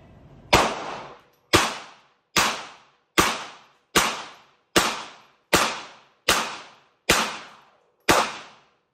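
Ten sharp gunshots from a GX4 carry .38 TPC pistol ring out at a steady pace, each a loud close crack with a short decaying tail, with no talk between them.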